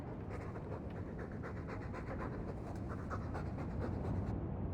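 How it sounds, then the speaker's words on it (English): A dog panting steadily in Dragon Age 2, quick rhythmic breathy huffs repeating close by and fairly quiet over a low background rumble. "All that noisy dog breath, day in, day out, make him stop."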